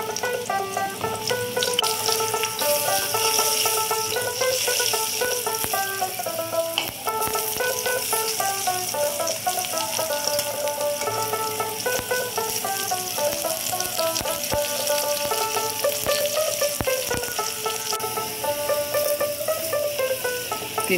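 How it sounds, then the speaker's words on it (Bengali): Cut potatoes fry in a pan of oil, the same oil used for tengra fish, giving a steady, continuous sizzle that sits under background music throughout. "আলুগুলোকেও একটু ভাজা ভাজা করে নেওয়া হবে।"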